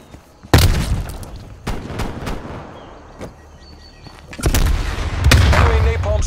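A grenade blows up in a gunfight in the Call of Duty Black Ops Cold War video game, with loud booming blasts and sharp gunfire cracks over a rumbling battle backdrop.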